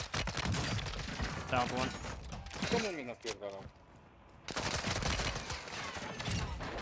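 Pistol gunfire in the video game Warzone 2, dense bursts of rapid shots mixed with other game sounds and a brief quiet gap, as players talk over the action.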